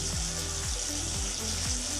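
Spice masala of turmeric and chili powder with a little water fries in a pan, a steady close hiss and sizzle with soft bubbling under a faint repeating low hum.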